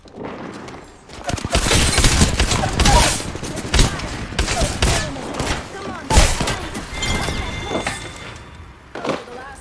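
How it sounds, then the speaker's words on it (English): Rapid, loud bursts of gunfire in the battle game Apex Legends crackle continuously for several seconds, close and dense, with voices heard beneath the shooting. "They're shooting at me."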